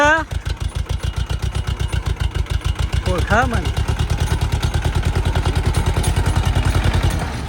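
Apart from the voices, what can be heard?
tractor engine running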